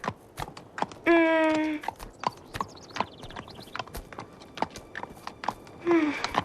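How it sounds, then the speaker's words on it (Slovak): A horse walks at a steady pace, its hooves clip-clopping in a quick, irregular rhythm close by, with two brief high whinny-like calls breaking in. "Je to váš kôň."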